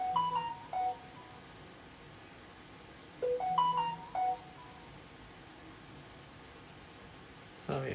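A mobile phone ringtone plays short melodic phrases in two separate bursts amid quiet room noise, moderately close, with a pause between them.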